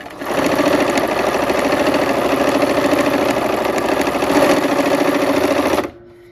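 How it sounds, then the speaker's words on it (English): Sewing machine running continuously while stitching half square triangle quilt units, a loud, close, even mechanical whir with rapid rhythmic needle clatter that stops abruptly near the end. "let's go ahead and sew these units"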